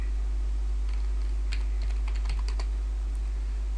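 Rapid typing on a computer keyboard while logging into a D-Link router's web page, a quick burst of close, light key clicks over a steady low hum, then quiet.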